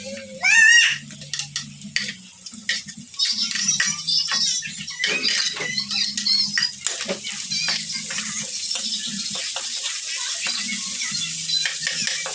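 Garlic, onion and tomato being stirred in a hot pan give a steady sizzle, with repeated scraping and clinking from the spoon against the pan, close and continuous.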